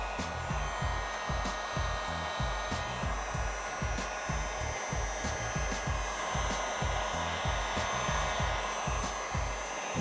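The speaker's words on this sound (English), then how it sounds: "Now I'll heat up the rest of the film a little bit" A heat gun blows a steady, close, continuous whoosh while warming paint protection film on a Toyota Tacoma headlight, with no talk over it.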